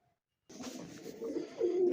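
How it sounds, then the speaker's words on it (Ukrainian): Pigeons cooing outside a window in low, murmuring rolls after a brief silence, the calls swelling louder toward the end. "Ось голуби за вікном."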